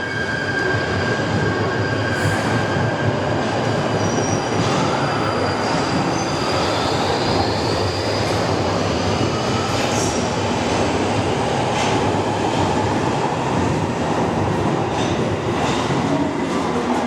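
A London Underground tube train running between stations: a loud, continuous roar of wheels and tunnel rumble with squealing rail tones and rhythmic clatter throughout, close and enveloping, with no voices.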